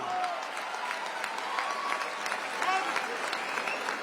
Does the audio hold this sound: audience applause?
yes